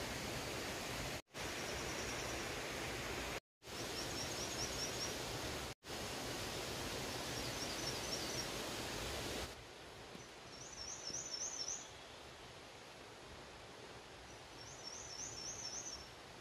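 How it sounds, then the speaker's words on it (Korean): A rushing mountain stream fills the air on a Jirisan forest trail with steady broadband water noise, and short trilling bird calls ring out intermittently above it, clearer once the water softens. "새소리, 물소리."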